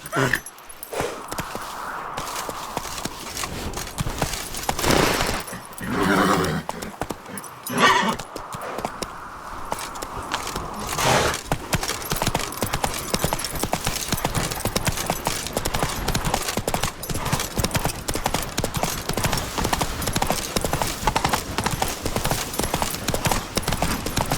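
Roach the horse gallops across The Witcher 3 landscape, steady rapid hoofbeats pounding close and loud, with a few brief whooshing swells early on before the rhythmic clip-clop settles in.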